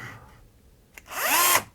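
A Bosch power drill whirs up in a short burst, then after a brief pause revs into a loud, rising high-pitched whine that holds steady before cutting off, close and alone.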